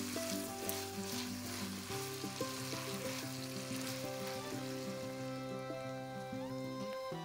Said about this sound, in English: Stir it so the salt is nicely blended with the onions.